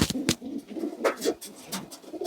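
Racing pigeons coo in a loft during spring, soft low rolling coos overlapping with scattered wing flutters and scuffs, close by and fairly quiet.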